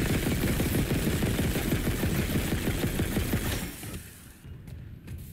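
Rapid automatic gunfire in the Dead Space Remake video game, a dense sustained burst of loud repeated shots that drops off after about four seconds into quieter scattered sounds.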